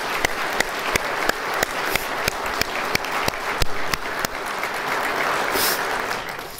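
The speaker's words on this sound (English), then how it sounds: "So let's give them a round of applause." A crowd at a military promotion ceremony applauds steadily, with sharper individual claps standing out above the dense, even clapping.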